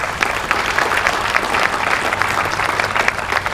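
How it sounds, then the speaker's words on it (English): A crowd applauds at a municipal court ribbon-cutting ceremony, steady dense clapping from many people with a few faint voices under it. "A round of applause for these guys."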